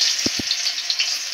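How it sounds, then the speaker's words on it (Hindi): Arbi leaf rolls frying in hot oil in a kadhai, a steady bright hiss and sizzle running throughout, with two brief low thumps near the start. "हल्का सा तेल में तलना है दोस्तों"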